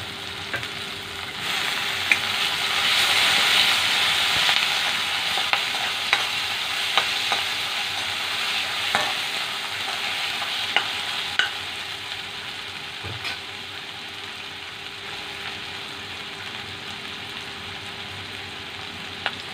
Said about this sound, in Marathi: बारीक कट केलेला टोमॅटो टाकायचा।